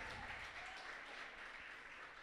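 A church congregation claps steadily, a dense wash of applause at moderate volume throughout.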